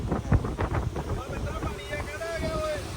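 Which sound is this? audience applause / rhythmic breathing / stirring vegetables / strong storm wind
strong storm wind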